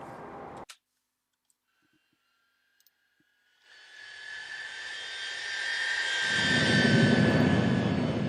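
Simulated Tupolev Tu-154 jet engines spool up to full throttle in X-Plane 11, a rising roar that builds from silence into a loud, steady broadband rush with a whining tone, swelling and deepening toward the end.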